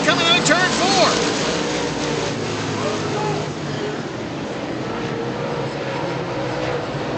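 Late model stock cars racing four wide at Virginia Motor Speedway, a loud continuous engine roar from a crowded pack that stays steady throughout, with a commentator talking over it.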